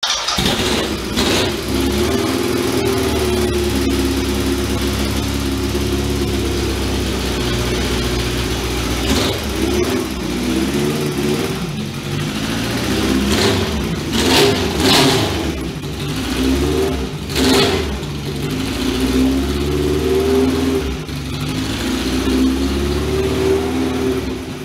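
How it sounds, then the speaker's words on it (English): A vintage Laverda Jota motorcycle being ridden on a road through the Queensland rainforest, its engine a loud, steady drone that rises and falls as the throttle changes, running continuously with wind rush and no speech. "I'll be riding a Laverda Jota."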